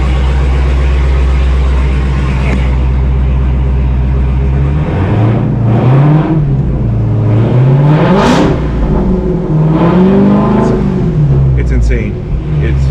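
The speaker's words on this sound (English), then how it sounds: "But doesn't mean we can't rev it up," A 2018 Dodge Charger Hellcat engine idles with a deep rumble, then is revved repeatedly in loud rising and falling surges with a supercharger whine, close and dominating throughout.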